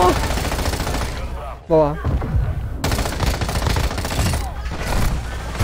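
Rapid automatic gunfire rattles in Call of Duty: Modern Warfare II, dense bursts broken by a short pause where a voice speaks, then resuming in sustained volleys.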